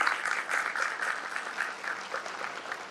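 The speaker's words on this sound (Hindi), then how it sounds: "जोरदार ताली के साथ।" Loud, sustained applause from a church congregation at an Easter prayer service, dense clapping filling the room evenly throughout.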